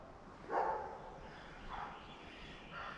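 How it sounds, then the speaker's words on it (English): The neighbors' dogs bark from a distance outdoors, three separate muffled woofs spaced about a second apart, faint over a low background hum. "the neighbors' dogs are barking at him"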